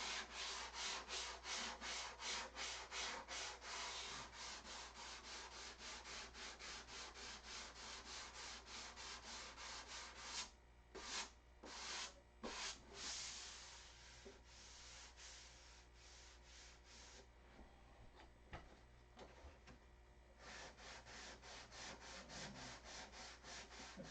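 Wood being sanded by hand toward a rounded bottom, a long run of rapid rhythmic back-and-forth scrubbing strokes, close and steady, pausing briefly midway before resuming.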